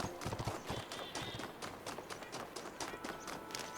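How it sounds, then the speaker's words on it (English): Galloping hooves like a running horse in the video game The Talos Principle 2, a fast, rhythmic clatter of hoofbeats that carries on steadily at moderate distance. "That really sounds like a horse."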